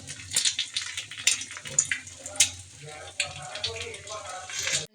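An egg fries in a pan with quiet, uneven sizzling and spattering crackles, soft and close, with no speech.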